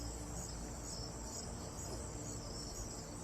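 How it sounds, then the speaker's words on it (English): Dense, loud outdoor chorus of crickets, a steady high continuous trilling that fills the whole stretch with no pauses and no voices. "Do you guys hear the crickets and everything? It's really loud out here."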